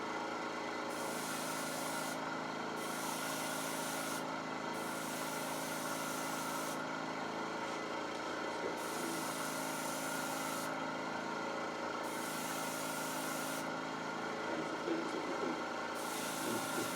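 An airbrush sprays paint in repeated bursts of soft, airy hiss, each lasting a second or two, over a constant background hum from the compressor. No one speaks.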